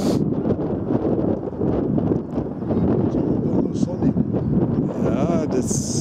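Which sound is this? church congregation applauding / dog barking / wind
wind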